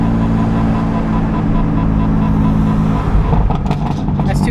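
A BMW F82 M4 with a burble exhaust tune drones loudly and continuously up close at low revs, its rough exhaust note dense throughout, with voices mixed in.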